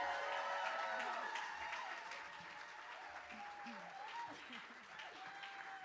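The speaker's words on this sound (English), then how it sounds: "Will you please put your hands together and give a massive stadium-sized round of applause" Audience at a live music venue applauds and cheers steadily for a performer, dense clapping filling the room with a few whoops and voices mixed in, holding at an even level throughout.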